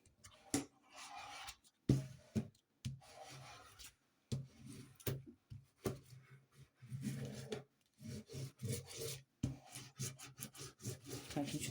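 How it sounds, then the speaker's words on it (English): Stickers are burnished down onto a surface for a handmade almanac with repeated close, scratchy rubbing strokes in short bursts separated by silent gaps. "Let's burnish them down again."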